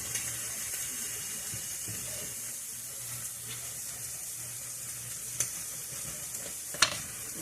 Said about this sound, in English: Now let me throw the pork in here.